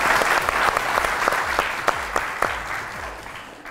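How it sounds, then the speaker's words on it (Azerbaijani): Studio audience at a televised show applauding for the jury, many hands clapping in a full burst with a few sharp distinct claps standing out, gradually thinning toward the end. "Bir alqış xahiş edirəm,"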